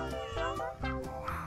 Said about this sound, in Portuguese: Tem algum gato aqui, gente.